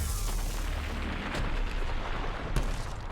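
A Reaper firing its weapon in the Mass Effect video game, heavy rumbling booms and a sustained roar with one sharper blast near the end, loud and continuous.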